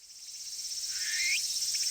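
Steady, continuous cicada buzzing drones through a summer scene, with a brief rising trill swelling near the middle before settling back into the even, shimmering chorus.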